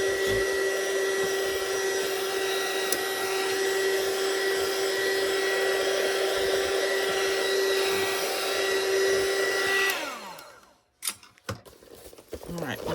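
An embossing heat gun blows steadily close up while heating the inside of a plastic bag, a constant whirring hum with a high whine that runs about ten seconds, then cuts off abruptly, leaving a few small handling clicks and knocks.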